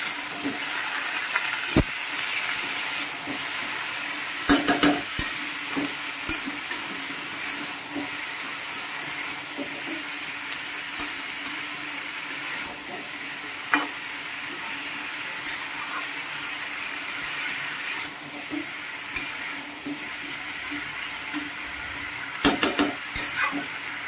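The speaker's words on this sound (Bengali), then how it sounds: "আর দেবো আদা আর কাঁচা লঙ্কা বাটা। এবার ভালো করে নাড়বো।" Vegetables with ginger and green chilli paste stirred in a sizzling pan, a continuous frying hiss broken by scattered scrapes and clinks of the spoon against the pan.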